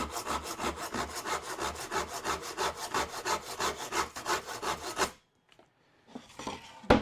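A hand saw cuts a 45-degree angle through wood with a steady run of rhythmic back-and-forth strokes, close and loud for about five seconds, then stops, leaving a short quiet gap and a few faint handling sounds.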